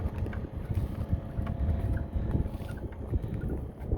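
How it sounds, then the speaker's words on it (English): Cold wind blows outdoors beside the water, a steady low rumble buffeting the microphone with gusts rising and falling and no voices. "the wind is cold"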